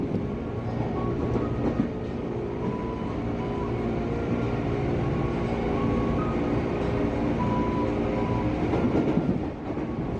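A commuter train rolls from Jatinegara toward Klender in Indonesia, giving a steady, close rumble from inside the carriage with faint rhythmic wheel clatter and a soft hum throughout.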